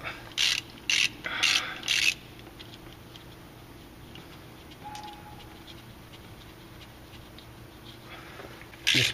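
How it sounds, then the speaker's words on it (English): A ratchet loosens 10 mm bolts on the transmission pan of a Jeep Cherokee with a Japanese automatic transmission. Several short, close bursts of rapid clicking come at the start, then quiet, then one more burst at the end. "while your fluid's draining, you can go ahead and pull all the bolts out"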